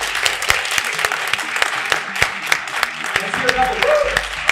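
An audience claps loudly together on cue, a steady burst of crowd applause with sharp individual claps standing out, while a voice speaks briefly over it near the end.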